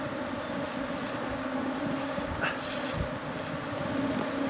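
Bees buzzing around a Kenya top bar hive outdoors: a continuous dense hum of many insects mixed with wind rumble against the microphone, steady and fairly close.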